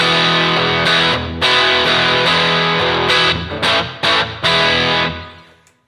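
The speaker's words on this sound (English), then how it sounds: "I'm going to turn that decay and the level down so you can just hear a little spank from the reverb there." Electric guitar played through a NUX amp with reverb, decay and level turned low, giving a short springy slap on each loud, distorted strummed chord; chords ring with brief gaps and a final fading tail.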